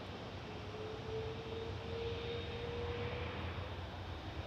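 An airplane takes off at night at Toronto Pearson Airport, its jet engines heard as a steady broad roar at some distance, holding level with a faint rising whine, with no voices.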